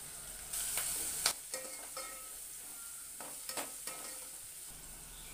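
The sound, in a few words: green chillies, ginger, garlic and turmeric frying in pan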